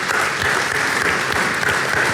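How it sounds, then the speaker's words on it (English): An audience applauds panelists at a conference panel session, steady dense clapping filling the room throughout, with no speech over it. "would like to give them a round of applause"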